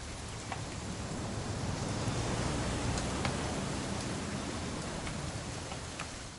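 Rain pours in What Remains of Edith Finch, a broad continuous wash of noise with faint scattered drip ticks, swelling slightly in the middle and easing toward the end, with no voices.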